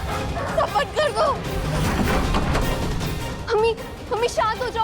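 Dogs bark outside a family home in a TV drama scene, in loud bursts at the start and again near the end, mixed with frightened shouting voices.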